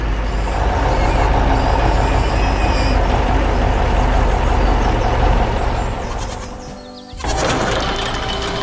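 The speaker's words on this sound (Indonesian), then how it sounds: "Truk putih sedang melintasi medan yang keras." A white truck in a farm cartoon rolls over hard, rough terrain, giving a loud, continuous rumbling drive that dips briefly near the end before picking up again.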